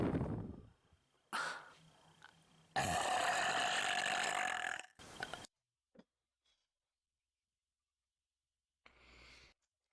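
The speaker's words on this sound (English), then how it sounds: "It's like I'm actually there and she's burping onto me." A girl burps several times in quick succession: a few short burps, then one long, loud, rasping burp, followed by brief quieter ones with silence between.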